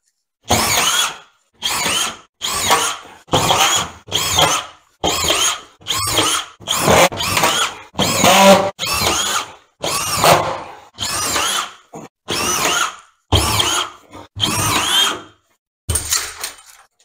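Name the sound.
power drill screwing plasterboard panel to ceiling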